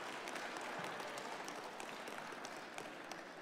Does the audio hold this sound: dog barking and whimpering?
no